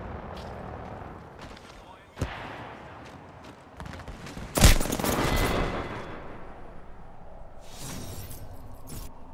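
Bursts of automatic gunfire and explosive cracks ring out in the video game Apex Legends, including a sharp single shot and one loud blast mid-clip, while a player talks over the action.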